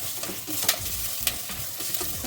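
Onion and capsicum stir-fry in a pan, with a steady sizzle broken by the scrape and clatter of a spatula stirring the vegetables every so often.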